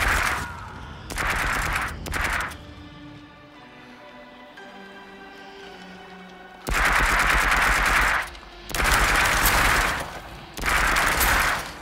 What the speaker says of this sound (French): N'hésitez pas à tirer avec les deux armes pour avoir deux armes.